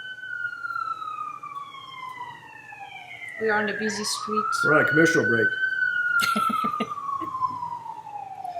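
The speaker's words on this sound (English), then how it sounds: "Wait for the ambulance to go." A wailing siren slowly sweeps up and down as an emergency vehicle passes, with a person talking over it partway through.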